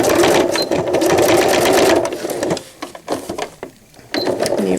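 A sewing machine runs steadily, then reverses for a short back stitch on a cloth diaper, its motor whirring up close before several brief stop-start bursts and a pause.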